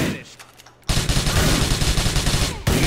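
Shotgun blasts in the video game GTA 4 burst in loudly after a brief quiet lull, a dense run of rapid, overlapping shots that carries on without a break.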